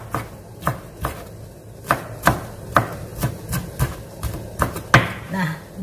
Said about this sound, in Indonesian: kumpulin jadi satu, kita potong kecil-kecil